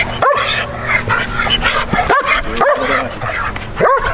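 A protection dog in bite work training lets out sharp barks and yips, close and loud, with whimpering and handler noise in between the four main bursts.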